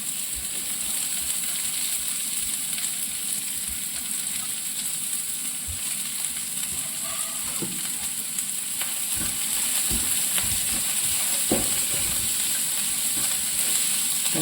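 Two medium onions, finely chopped, fry in a pan for chicken thoran, with a loud, continuous close sizzle and occasional scraping stirs.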